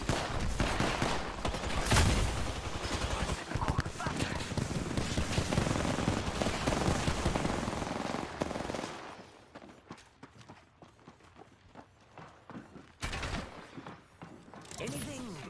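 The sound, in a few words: gunfire in a video game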